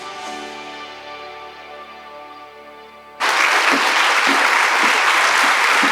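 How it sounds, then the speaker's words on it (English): An audience at a charity program bursts into loud, sustained applause that starts abruptly after a stretch of music and carries on dense and steady to the end. "Keep it clapping."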